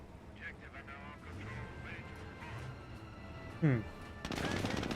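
Gunfire from the WWII real-time strategy game Company of Heroes: a short, sharp burst around the middle, then dense rattling fire near the end, mixed with in-game voices and battle ambience.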